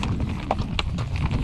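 Horse hooves clip-clop on a dirt road during a countryside ride, a close, steady uneven patter with faint background sound.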